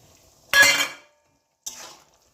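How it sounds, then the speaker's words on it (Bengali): Pre-fried paneer cubes dropped into a pan of cooked spices for shahi paneer give a short sizzling clatter, then a second fainter sizzle about a second later, both close and otherwise quiet. "পনিরগুলোকে আমি এবার ওই কষানো মশলার ভেতরে নামিয়ে দেব"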